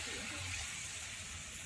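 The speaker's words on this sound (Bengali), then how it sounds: "এবার আমি জল দিয়ে দেবো।" Water poured into a cooking pan of mixed vegetables for a light fish curry, a steady low gushing pour that runs unbroken and fairly quiet, with no talking over it.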